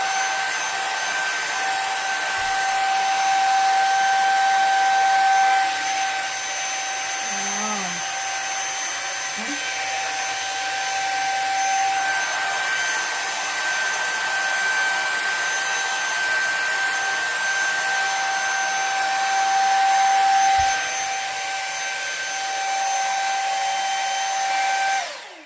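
Electric hot hair brush running steadily while curling hair, a continuous whirring hum with faint tonal whine, close and fairly loud throughout, with brief handling knocks and no speech.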